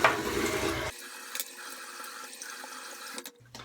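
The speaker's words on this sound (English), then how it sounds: "I rinsed out my face." Tap water runs and splashes as a face is rinsed after shaving: a broadband gush in the first second, then a quieter, steady trickle with a few small splashes, close by, with no talk.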